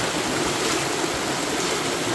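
Village river water in Jamaica flows steadily and close, a constant broadband rush with no voices.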